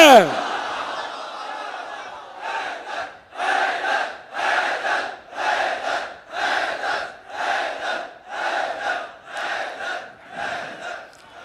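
A majlis audience chants slogans in unison, roughly nine loud rhythmic bursts of many voices repeating at a steady pace, each swelling and fading before the next.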